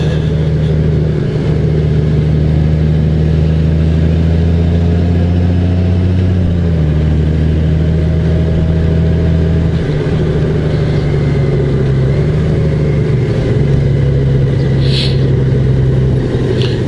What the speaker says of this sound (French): Je trouve que le moteur est trop bruyant.